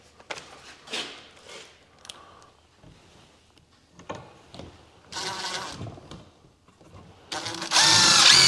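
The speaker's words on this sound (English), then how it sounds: "Pre-drilling this so don't split this old wood." A power drill pre-drills old wood while building a rabbit enclosure, giving short, fairly loud whirring bursts separated by quieter handling noise, with a longer, louder drilling run at the end.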